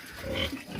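A pig on a farm grunts in one short, close burst with no talking.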